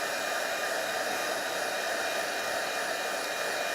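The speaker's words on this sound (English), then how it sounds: "a hairdryer will have more force than a heat tool" A hair dryer blows steadily on wet watercolor on cardmaking paper, a constant close, loud whoosh with no talk.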